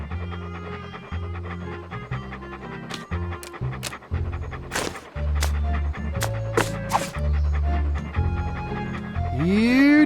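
A cartoon dog in the adventure game Monkey Island 2: LeChuck's Revenge pants in loud, rapid rhythmic huffs over game music, with a few short yips mixed in.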